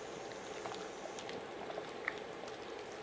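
Pechay leaves blanching in simmering pork rib nilaga broth, a steady soft bubbling hiss with faint pops and small liquid patters, close and quiet with no talk.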